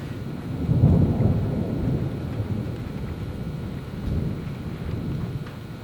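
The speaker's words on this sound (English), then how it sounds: "But we had a bit of a storm coming in, so Drake and I decided to call it a day" A thunderstorm with steady rain and low rolling thunder, the strongest rumble near the start and another swell later, continuous and fairly close.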